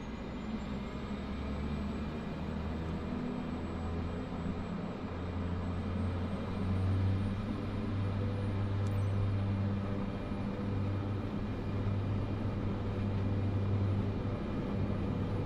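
Airliner engines in Microsoft Flight Simulator 2024 during takeoff, a steady low droning rumble with a thin high whine, sustained and even throughout with slight swells, no talking.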